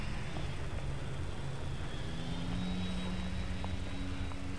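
A small engine whines steadily at a distance as a 72-inch radio-controlled Cub model plane flies by, a continuous buzzing drone with no voices.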